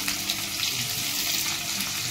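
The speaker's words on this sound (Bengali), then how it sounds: "এবার আমি আলুটাকে ভেজে নেব ভালো করে।" Potatoes fry in hot oil with a continuous, even sizzle that stays close and steady throughout, without any voices.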